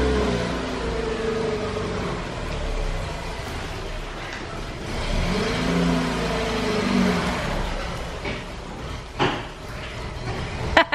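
A carbureted car engine warming up on a rainy day, idling unevenly with surges of revving and whirring, fairly close, ending in a few sharp knocks.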